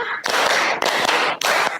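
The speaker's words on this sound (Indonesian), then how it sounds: "Tepuk 1, tepuk 2, tepuk 3, tepuk 4, tepuk 5" A class in an Indonesian classroom claps in time to a counted pattern, producing three short, loud bursts of many hands with brief gaps between them.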